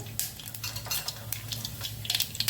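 Cumin seeds crackle and sizzle in hot oil for tempering, bursts of bright spitting over a low hum, with occasional spoon scrapes and taps against the pan, close and fairly quiet.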